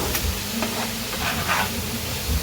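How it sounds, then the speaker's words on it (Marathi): Ginger, garlic and Kashmiri chilli frying in a pan for a Veg Kolhapuri masala, giving a steady close sizzle with a few stirring scrapes and no talk. "आलं लसूण हे सगळं फ्राय करून घेत आहोत"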